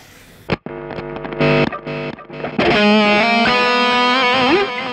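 A heavily distorted electric guitar, a Pro Series Juggernaut with Ragnarok pickups, plays loud, sustained chords and riffs with brief stops and restarts, then rings out in a thick held passage.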